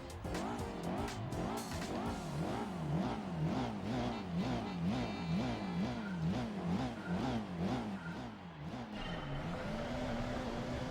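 A Lancia Delta rally car in Gran Turismo 4 revs hard, its engine pitch sweeping up and down in a steady rapid cycle through repeated gear changes, with tire squeal mixed in, loud and continuous throughout.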